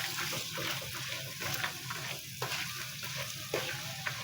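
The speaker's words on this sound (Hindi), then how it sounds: "अब इसको अच्छी तरह से मिक्स करेंगे।" Spiced potato and vegetable dish being stirred as it fries in a pan, a steady sizzle with scraping and stirring strokes running throughout, close and moderately loud, no talking.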